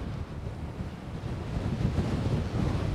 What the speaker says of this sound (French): Il y a des vagues dessus tellement il y a du vent.